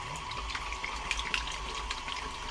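Photographic film fixer poured from a bottle into a developing tank, a soft continuous trickling and splashing of liquid lasting a couple of seconds, close but fairly quiet.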